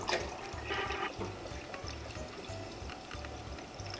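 About two cups of water pour into a soup pot for escarole and bean soup, a soft continuous splashing and trickling throughout with faint rhythmic low thumps underneath.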